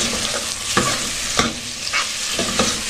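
A spoon stirring meat with a beef stock cube in a sizzling pot for Egyptian green beans with meat, a few distinct scraping strokes over a steady hiss of frying, close and without talk.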